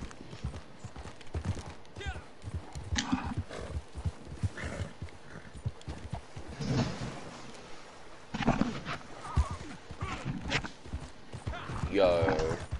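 Hooves of a horse in Red Dead Online clop along intermittently under frequent talk, with occasional scuffing steps and a brief whinny-like sound near the end.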